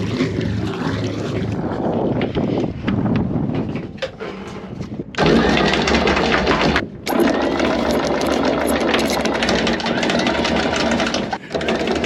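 A sailboat's engine at anchor, first a rough intermittent chug, then a loud steady mechanical drone after it catches, with a brief dip midway and wind buffeting the microphone.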